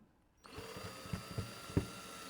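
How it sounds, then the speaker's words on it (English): Power driver turning a screw further into an engine cowl sheet, a faint motor whir starting abruptly, with a few soft clunks as the screw seats. "all I'm going to do with that screw is just screw it in a little bit further if I can"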